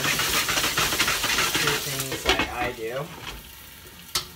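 Chopped garlic sizzles steadily in a hot pan for chicken pesto, a close, continuous hiss with a few utensil clinks and faint background voice.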